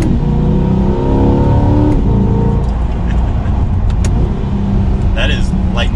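A 2020 Chevrolet C8 Corvette pulls hard from inside the cabin, its engine note rising through the revs, then a quick shift and another climb. The sound is loud and steady under occupants talking.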